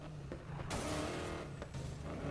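A car drifting in the Need for Speed Payback racing game, a drag car driven like a drift car: steady engine drone with a surge of broadband tire-screech noise midway, loud and continuous with no talk.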